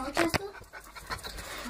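A pet schnauzer panting and snuffling at close range, with a couple of sharp short vocal bursts near the start, while a person talks nearby.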